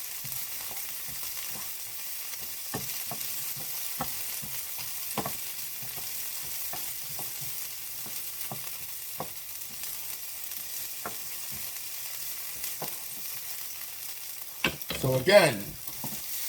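Sliced bell peppers frying in a pan for a Philly cheesesteak, with soft, steady sizzling broken by scattered clicks and stirring scrapes, and a short spoken phrase near the end.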